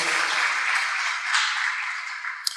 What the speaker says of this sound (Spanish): Vamos a dar un aplauso a los hermanos que nos visitan por primera vez.